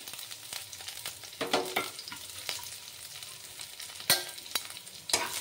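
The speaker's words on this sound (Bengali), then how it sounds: "তেল গরম হলে তাতে আমি রসুন কুচিগুলি দিয়ে দিচ্ছি।" Chopped garlic frying in hot oil in a wok for a fried greens dish, a steady close sizzle broken by sharp stirring scrapes and clinks throughout.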